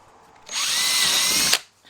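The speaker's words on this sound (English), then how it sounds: "I've drilled those 6mm pilot holes" A power drill bores a 6mm pilot hole into an Audi A3 side skirt, a loud close whine rising and holding for about a second before cutting off abruptly.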